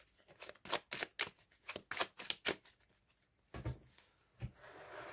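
Tarot cards being shuffled for a reading: a run of quick, crisp riffling and slapping bursts, fairly close and moderately quiet, with a short pause and a few softer card movements near the end, no talking.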